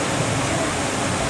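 River water rushes steadily at a riverbank near Puerto Galera, a loud, close, unbroken hiss of flowing current with no voices.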